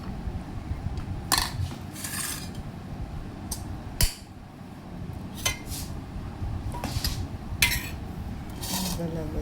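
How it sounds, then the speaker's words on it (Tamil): Rice being served at home for a lunch meal, with dishes and metal utensils clinking and scraping in scattered sharp taps over a steady kitchen background, with a voice talking at times. "இப்போ பார்த்திங்கன்னா நம்ம ரைஸை சர்வ் பண்ணட்டும்"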